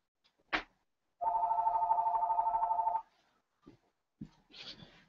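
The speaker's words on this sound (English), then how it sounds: "The phone's ringing." A telephone ringing during a live stream: a single steady electronic ring lasting just under two seconds, fairly close and clear, with a few short knocks and rustles before and after.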